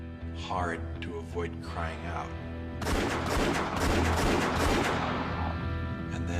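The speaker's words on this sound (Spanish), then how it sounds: "Terán disparó varios tiros." Speech at first, then a rapid burst of gunfire erupts, a dense volley of shots lasting a couple of seconds, with a few scattered shots trailing after.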